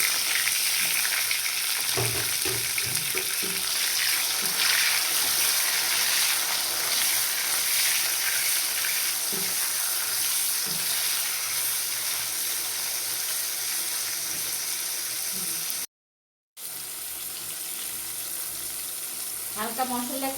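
Fresh tomatoes frying in a pan for a quick pasta, a steady loud close sizzle running throughout with occasional stirring scrapes, briefly cutting out near the end before resuming, no talking.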